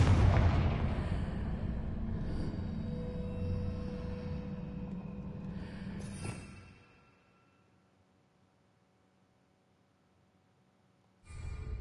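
Confringo blasting spell explosion in Hogwarts Legacy, a loud deep boom that rumbles for several seconds and then drops away to near silence, with a second burst starting at the very end.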